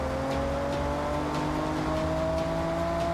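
A Toyota Supra MK4 in Forza Horizon holds a steady engine drone with a slowly rising pitch, loud and continuous, with no voices.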